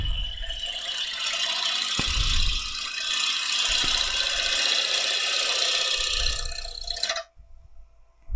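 A sharp gouge cuts a spinning wood blank on a lathe, giving a continuous loud hissing scrape with a few knocks, until the cut stops abruptly and near silence follows.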